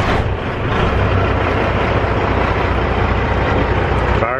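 A diesel truck engine idles close by with a dense, even rumble that holds steady throughout, with no voices.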